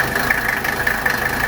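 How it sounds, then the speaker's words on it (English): The diesel engine of a 1983 Mercedes 300D idles close by with a steady, loud clattering drone and a constant mid-range hum. "we got the engine running"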